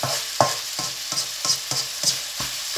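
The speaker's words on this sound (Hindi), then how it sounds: "अच्छी तरह से कीमे को मैं इस तरह मिक्स करके" Aloo keema, minced meat with potato, is stirred and fried in a pan, with a spatula scraping in regular strokes about every third of a second over a constant sizzle, close up and without talk.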